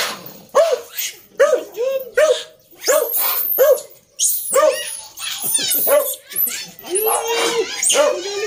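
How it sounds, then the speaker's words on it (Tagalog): A dog barks repeatedly and loudly up close, short sharp yelps coming in uneven bursts, with people's voices mixed among the barks. "Natakot pag may aso."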